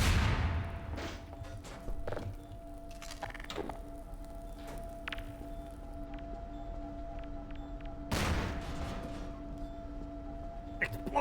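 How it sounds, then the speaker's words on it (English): Explosions in the Half-Life 2 video game, with a sharp broadband blast at the very start and another around eight seconds, separated by scattered faint clicks and cracks over a quiet background hum. "Explosion!"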